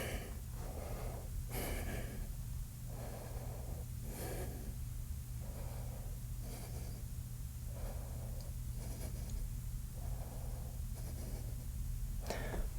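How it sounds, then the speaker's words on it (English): Slow, steady yoga breathing during a power vinyasa flow, with long airy inhales and exhales repeating in an even rhythm, close and soft over a constant low background hum. "Inhale. And exhale."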